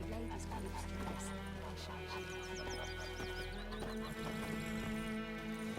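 Roach, Geralt's horse in The Witcher 3, whinnies with a rising and falling neigh over steady clip-clop hooves and a low ambient hum, with fowl clucking faintly nearby and a voice speaking.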